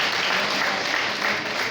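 Applause for a primary school team at a children's quiz final in Senegal, a dense, steady wash of many hands clapping close by, with no speech over it.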